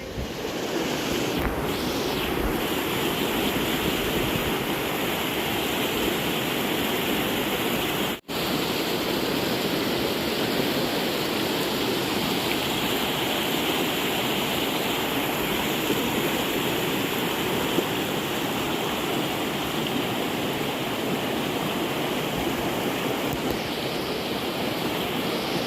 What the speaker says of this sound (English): I'll record a little bit more of the river